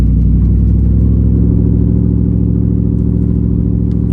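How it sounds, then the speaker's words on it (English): A pickup truck's true dual exhaust idles loudly and steadily up close with a deep, choppy rumble, its low throbbing pulses continuing without pause. "with the True Duals, very choppy, but super deep chop"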